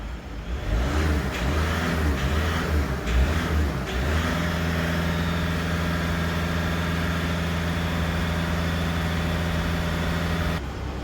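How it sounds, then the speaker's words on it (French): A Volkswagen Caddy 2.0 TDI diesel engine idles after being restarted following a repair, a steady, loud, close drone with some uneven revving early on before it settles into an even hum. "On va laisser tourner la voiture un petit moment"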